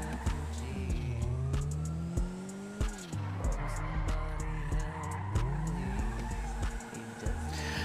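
Tyres screeching through repeated handbrake slides in the GTA video game, with engine notes rising and falling as the car drifts, loud and continuous with brief gaps between slides.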